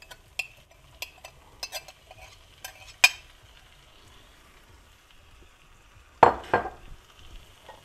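Grated tomatoes fry in a pan with vegetables for borscht, a quiet sizzle under occasional scraping stirs and spoon taps, with a louder clatter of stirring near the end; no talking.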